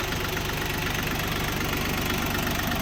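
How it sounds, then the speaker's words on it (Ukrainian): A small three-cylinder engine of a Bulat 244L tractor idles steadily and close by, with a low rhythmic chugging throughout and no other sounds. "Тракторець з боковою колісою КПП, трьохциліндровий."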